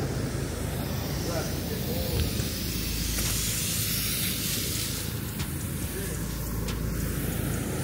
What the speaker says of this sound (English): He's spraying like mist, like water.